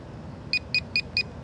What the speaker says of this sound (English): Controller's beeping.